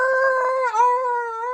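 A dog nicknamed TIE Fighter lets out a loud, sustained howling whine that dips briefly in the middle before carrying on, close and alone.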